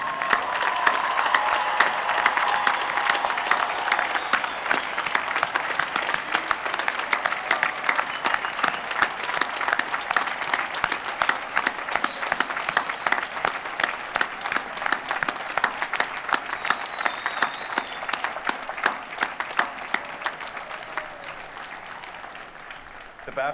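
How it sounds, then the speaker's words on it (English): Graduates at the University of Virginia final exercises receive sustained applause from a large crowd. The dense, even clapping continues for over twenty seconds. "take as much time as you want to applaud them"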